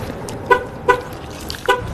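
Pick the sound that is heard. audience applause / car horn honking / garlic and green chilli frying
car horn honking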